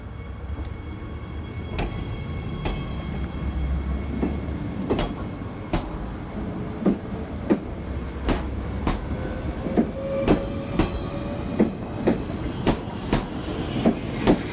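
A French TER regional train rolls along the rails with a steady rumble and a regular series of sharp clacks that grow more frequent and louder toward the end.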